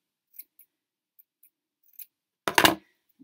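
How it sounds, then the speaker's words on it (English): Scissors snipping yarn to trim a handmade pom-pom: a few faint, isolated snips, then a short loud burst of quick close-up cutting, with no talking. "And just a few more snips, I think, over this side."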